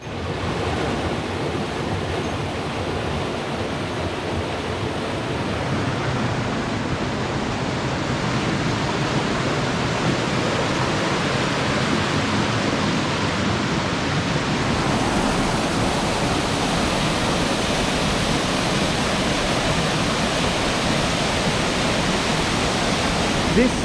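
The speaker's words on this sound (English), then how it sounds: "This is one of the holiest places here, Dual Waterfall." The Dual Waterfall near Yudono shrine in the sacred mountains of Yamagata, Japan, with water rushing in a steady, close, enveloping roar that continues without pause.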